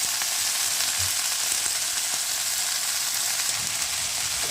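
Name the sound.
moringa flowers and eggplant added to hot mustard oil, frying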